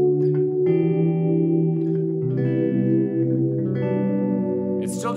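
Electric guitar played through a subtle reverb pedal with the mix set almost fully up, sustained chords ringing and blooming into a soft wash of echo, loud and close, with brief string noise at the end.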